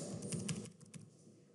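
Typing on a computer keyboard, a short quiet run of soft key clicks heard up close.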